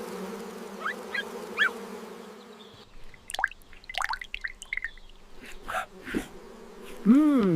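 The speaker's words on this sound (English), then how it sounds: "Welcome home, bees." In a cartoon farm scene, bees buzz in short, wavering bursts around a hive amid light clicks and drips, with a low hum running underneath.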